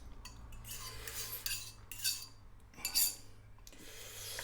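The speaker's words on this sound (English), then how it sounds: "Add the eggs and beat." Eggs are beaten in a mixing bowl with a utensil for an old school dinner recipe: rhythmic scraping and clinking of metal against the bowl in uneven strokes, close and moderately loud.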